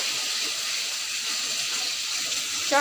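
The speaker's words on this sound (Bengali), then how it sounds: "মাছের মশলাটা কষে নিয়ে জলটা ঢেলে দেবো" Water streams steadily into a pan of fried-fish spice paste, a continuous gushing splash that swells slightly at the end.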